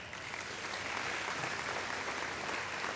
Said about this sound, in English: So give these guys a round of applause.